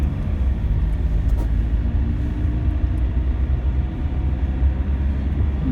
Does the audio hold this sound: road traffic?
yes